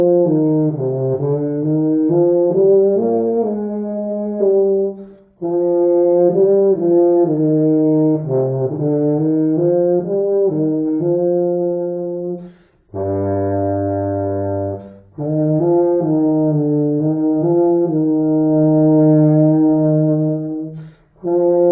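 Euphonium, the tenor tuba, playing a slow lyrical melody alone, warm sustained brass notes in phrases separated by short breaths, including a deep held low passage.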